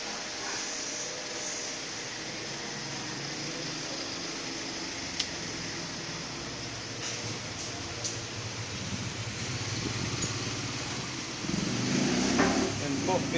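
A high-throw elephant-type forage chopper silage machine runs steadily, a dense continuous mechanical roar with rattling and a few sharp knocks, growing louder and rougher toward the end.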